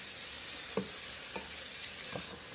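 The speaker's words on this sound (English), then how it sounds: "before we add water, we have to fry this for some time in the same oil, right?" Basmati rice and green peas fry in oil with a soft continuous sizzle, while a few light spoon or spatula strokes scrape through the pan at irregular intervals; no one speaks.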